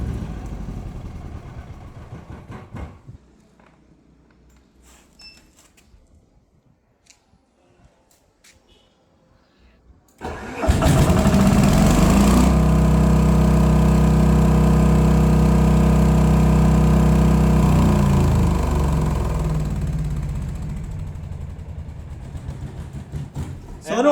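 A Philking PK10000STRA 10 kVA generator engine starts up loud and close after a quiet stretch, running at a steady, strong drone and then easing to a lower level as it winds down toward the end.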